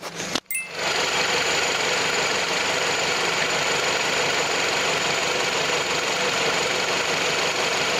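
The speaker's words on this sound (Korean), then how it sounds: "일단 엔진 소리부터 한번 들어보도록 하겠습니다" A gasoline Renault Samsung QM5 SUV engine idles steadily and smoothly at close range with the hood open, a continuous even hum after a brief click at the start.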